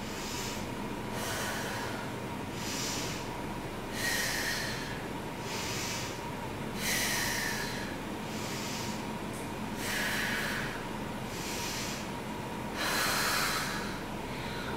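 Slow, deliberate breathing during a held yoga pose, with soft audible breaths recurring every few seconds over a quiet steady background hum, close and gentle.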